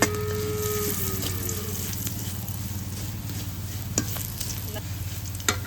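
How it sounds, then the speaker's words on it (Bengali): Chili and garlic fry in a pan for a village dish, a steady close sizzle with a few soft utensil clicks and scrapes breaking through near the end. "লাল লাল করে মরিচ আর রসুন সহ ভাজে নিই"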